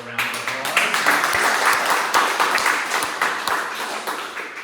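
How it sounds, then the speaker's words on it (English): An audience at a talk breaks into sustained applause, many hands clapping steadily at moderate loudness with a few sharper individual claps standing out. "I think that deserves a round of applause."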